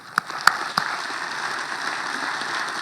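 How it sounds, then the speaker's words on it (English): Audience applause for hackathon winners, a few sharp claps followed by a steady patter of clapping from a modest crowd at moderate distance. "So a round of applause for them."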